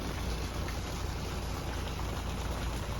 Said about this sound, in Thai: ฝนตกพอดีนะครับฝนกำลังลง